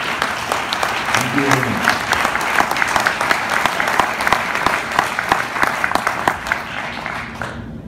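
An audience applauds for a doctor at a medical association talk, steady loud clapping with a few sharp individual claps, while someone briefly speaks over it near the end.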